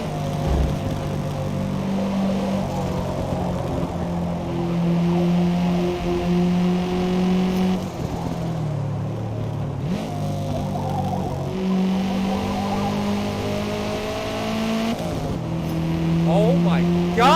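A race car engine in the video game Forza Motorsport roars and shifts pitch up and down as it accelerates and changes gears, continuous and loud, with a voice talking over it.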